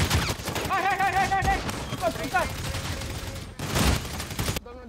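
Gunfire bursts from a sniper engagement in a video game, with several sharp shots crackling up front alongside chirpy game effects and background noise.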